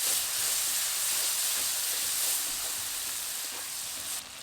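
Ghugni masala with Kashmiri chilli powder sizzles and hisses loudly and steadily in a pan as a little water goes in, fading slightly at the end.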